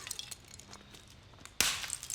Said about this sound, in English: After smashing my existing keyboard,